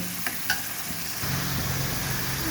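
Shrimp being sautéed in a pan: a steady sizzle fills the background, with a few soft utensil taps near the start and a low fry rising partway through, no voices.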